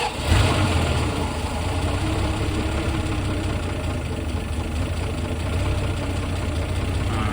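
The slant six engine of a 1965 Plymouth Valiant runs at a steady idle, a close, loud, continuous rumble with a rough knocking undertone throughout and no voices.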